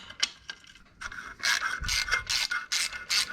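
Ratchet working a penetrating-oil-soaked bolt loose on a Suzuki Alto Works F6A twin-cam engine: short bursts of loud, close clicking in quick back-and-forth strokes, with no voices.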